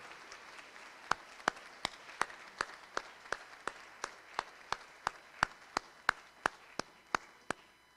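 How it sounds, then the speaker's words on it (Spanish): Sparse, evenly spaced claps at a certification ceremony for graduates: about twenty sharp, distinct hand claps in a slow, regular rhythm, fairly quiet against a hushed room. "Nuevamente demos un fuerte y merecido aplauso a nuestros egresados."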